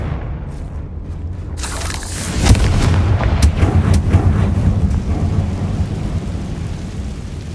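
A Confringo fire spell explodes in Hogwarts Legacy with a deep, thunder-like boom that swells after a quiet start, then rumbles on with crackling debris as it slowly fades.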